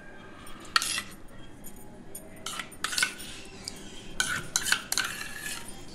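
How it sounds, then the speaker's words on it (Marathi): Whisked curd is spooned into Hyderabadi chicken biryani masala in a metal pan, giving a series of close, bright clinks and scrapes of a spoon against metal, loud and alone with no talk. "दही चांगलं फेटून घेतलंय, दही टाकते"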